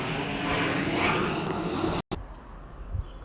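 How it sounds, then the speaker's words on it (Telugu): Propeller airplane passing overhead, a broad steady roar filling the first two seconds, then cutting off into quieter outdoor ambience with faint low thumps. "ఇప్పుడే కదా ఫ్రెండ్స్ విమానం వెళ్ళింది"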